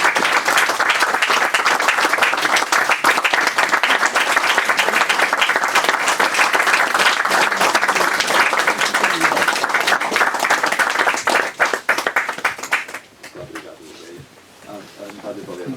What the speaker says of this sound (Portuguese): Então um aplauso para esta grande